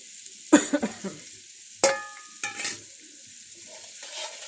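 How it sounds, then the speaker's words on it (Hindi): An egg is added to fried masala in a pan, giving a sudden hiss and sizzle followed by scraping stirs of a utensil against the pan, with a few distinct bursts and quieter frying in between. "अब इसमें हम सबसे पहले क्या डालेंगे, अंडा।"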